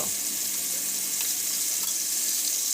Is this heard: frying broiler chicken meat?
yes